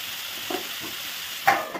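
Mixed summer vegetables and nuts stirred in a frying pan with salt: a soft steady sizzle with a couple of spoon scrapes and a sharper clatter near the end, fairly quiet and without talk.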